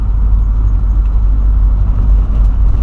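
An old Volkswagen Voyage with an AP engine runs with a steady, loud, low rumble that holds evenly throughout, with no voices over it.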